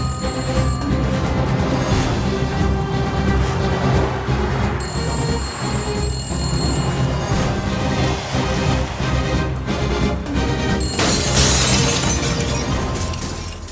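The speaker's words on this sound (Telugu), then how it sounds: "అద్దాలు కూడా బద్దలు కొట్టుకొచ్చేస్తున్నావంటే" Glass shatters during a Telugu film's climax fight scene, a bright crashing burst near the end that rides over loud, dense background music throughout.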